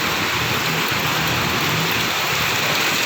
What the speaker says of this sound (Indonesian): dan ternyata benaran hujan.